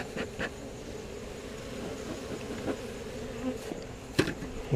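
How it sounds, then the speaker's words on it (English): Honeybees buzz close and loud during a beehive inspection, a continuous dense hum with individual bees passing near, plus a few sharp handling clicks and knocks. "So I'll have more bees buzzing me."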